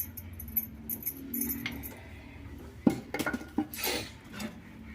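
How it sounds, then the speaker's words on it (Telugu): Ingredients pounded coarsely by hand in a stone mortar for homemade oil, heard as irregular knocks and clinks, one sharp thud near the middle followed by a quick cluster of strikes, fairly close with no talk. "నేనైతే ఇలాగే దంచేస్తాను, మెత్తగా దంచను."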